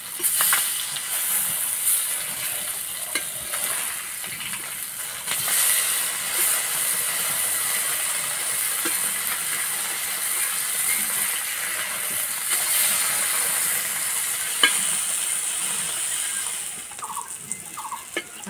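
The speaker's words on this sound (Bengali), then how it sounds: "এক পিঠ ভাজা হয়ে গেছে, উল্টে দেবো।" Spice-coated fish sizzling on a flat griddle after being flipped, a continuous close hiss and crackle with occasional sharper pops, running unbroken without speech.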